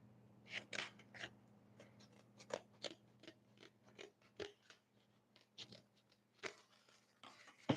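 Faint, irregular snips of a cutting tool trimming a small piece, about a dozen short crisp clicks spread over several seconds against a quiet low hum.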